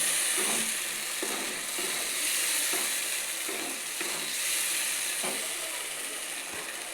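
Ground spice paste and chopped tomato fry steadily in a pan for a potato-and-pointed-gourd dish, a continuous loud sizzle with periodic stirring scrapes, close up and without talk.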